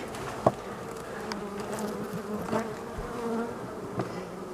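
A steady, dense buzzing of many honeybees close by at an open hive, continuous throughout with a few brief louder bumps.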